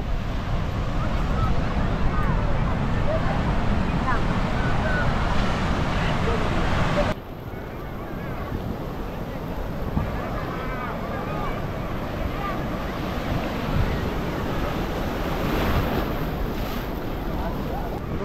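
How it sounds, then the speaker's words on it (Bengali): Heavy sea waves roll and break at Puri beach, a continuous loud roaring wash mixed with wind buffeting, with voices talking over the surf throughout. "আরে ভাই, এ তো প্রচুর ঢেউ"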